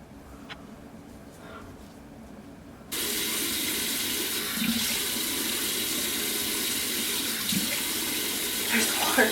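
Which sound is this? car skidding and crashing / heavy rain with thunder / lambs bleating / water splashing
water splashing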